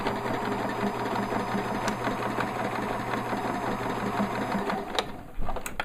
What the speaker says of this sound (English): I'm also gonna sew towards the seam